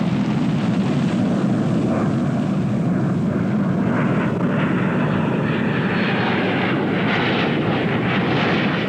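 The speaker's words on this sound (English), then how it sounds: "accelerates his aircraft at 280 miles per hour, performing the very, very graceful Immelman on takeoff" A Blue Angels F-4 Phantom jet roars loud and continuous on its takeoff run, a broad engine rumble with shifting tone that builds as it accelerates.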